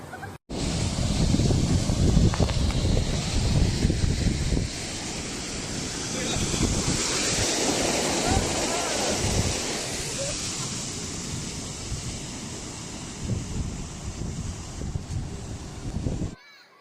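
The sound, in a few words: Qiantang River tidal bore waves, intensified by typhoon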